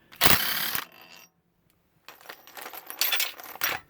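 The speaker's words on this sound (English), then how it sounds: "It's really helpful having an electric impact for just about anything." An electric impact wrench with a 19mm hex bit socket runs out lug bolts on a B8 Audi A4 during wheel hub work, giving loud rattling bursts of hammering separated by a silent pause.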